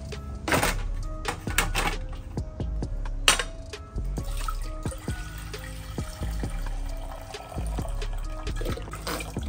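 Beef stock poured into a pot for pho broth, a continuous liquid trickle and splash with occasional thunks of kitchen containers, close and moderately loud.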